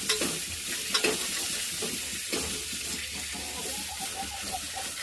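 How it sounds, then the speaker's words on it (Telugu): Chillies frying in hot oil, a continuous sizzle and crackle with stirring scrapes and a faint dripping, near and steady throughout without talk. "ఇలా వేపుకోవాలి మిరపకాయ"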